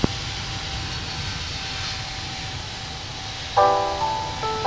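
Jet airliner taking off at Tokyo Narita in the video game Infinite Flight, a steady engine roar with a rising tonal whine joining late, close and fairly loud, with no voices.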